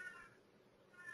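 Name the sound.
cat meowing in the background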